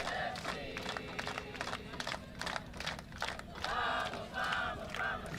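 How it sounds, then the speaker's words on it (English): San Diego Wave supporters cheer and chant in a stadium late in a women's soccer match, a loud massed roar with rhythmic shouts and clapping, while a commentator talks over it. "they've been cheering like this all game long"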